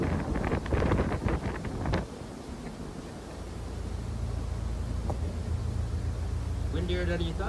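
Strong wind buffets a sailing trimaran in gusty roaring bursts against the microphone, then settles into a steady rumbling blow with faint creaks near the end.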